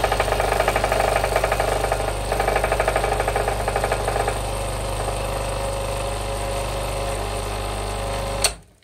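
A La Cimbali Junior DT/1 espresso machine runs its dosing function, with a steady motor hum and a rapid mechanical pulsing that fades after a few seconds, then the machine cuts off abruptly near the end.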